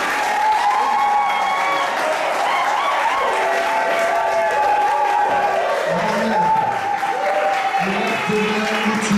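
A church congregation applauding and cheering, continuous loud clapping and crowd noise with raised voices and tonal sounds layered over it throughout.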